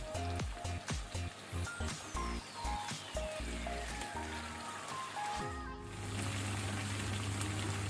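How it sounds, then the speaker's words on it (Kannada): Small potato pieces fry in a pan over a medium-high flame, a steady close sizzle and crackle with a low hum underneath, interrupted by a few knocks early on. "2 ಮಿನಿಟ್ಸ್ ಫ್ರೈ ಮಾಡುವ ಇದನ್ನು ಮೀಡಿಯಂ ಟು ಹೈ ಫ್ಲೇಮಲ್ಲಿ"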